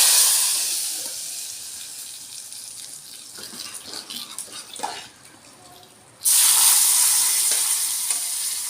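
Hot tempering poured into tomato dal: a moderate sizzle with scraping and clinks fades low, then a sudden loud hissing burst erupts as the spiced oil hits the dal and keeps sizzling steadily.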